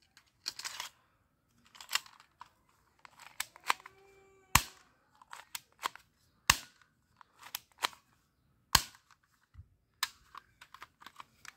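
A small toy ball gun fires in a series of sharp, snappy pops, spaced irregularly with short gaps, some louder cracks standing out, close and clear with no talking.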